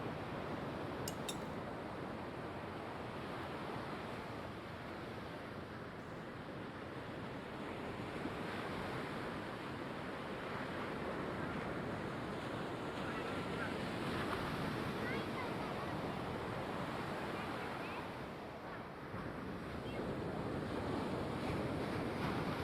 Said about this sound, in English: The sound of the waves is so relaxing.